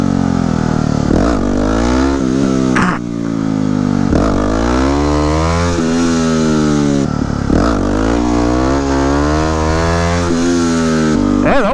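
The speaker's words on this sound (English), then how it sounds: "see if I can still pop a decent wheelie on this thing" A 2009 Yamaha WR250X supermoto's engine revs hard and close during a wheelie, rising and falling in repeated surges with no talk over it.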